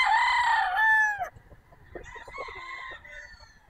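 A straight-combed broodcock rooster at a gamefarm crows once, loud and close, its call rising and then trailing off, followed by softer clucking and farmyard noise.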